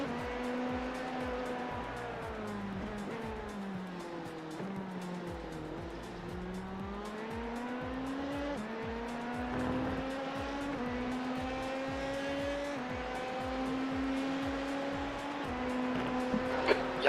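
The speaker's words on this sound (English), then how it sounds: "There's a faster car bearing down on you." Race cars roar through a rain-soaked Daytona 24 Hour event in a racing video game, their engines rising and falling in pitch as faster cars close in and pass, loud and continuous throughout.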